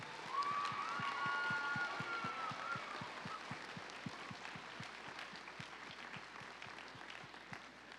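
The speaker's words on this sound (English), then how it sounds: "So let's give them a round of applause as well." Audience applause at a folk festival gala performance, a dense crowd of clapping hands sustained across the whole stretch, with a steady rhythmic thump pulsing underneath and the clapping easing slightly toward the end.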